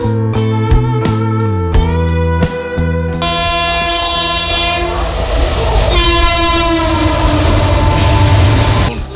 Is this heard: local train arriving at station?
yes